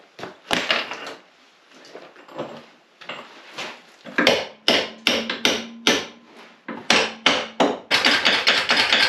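A hammer whacks metal on a classic car repeatedly, sharp ringing blows coming in uneven bursts, quickening toward the end, with metallic clatter between strikes.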